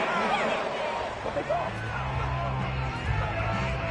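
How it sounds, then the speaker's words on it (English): Home crowd in the Madden 22 football video game cheers a penalty call as a steady, roaring wash of stadium noise, with a commentator talking over it throughout. "This home crowd, they're happy with that call."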